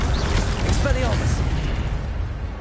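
An Expelliarmus disarming spell cast in Hogwarts Legacy bursts out as a dense, continuous magical whoosh with popping bursts, held loud for the whole stretch.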